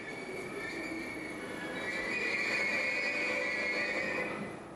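A city train rolls along its rails with a steady, fairly loud rumble and a continuous high wheel squeal that swells in the middle and fades slightly toward the end, with no voices.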